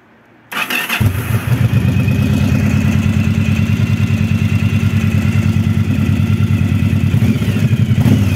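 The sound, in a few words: Yamaha DragStar XVS 1100 motorcycle engine running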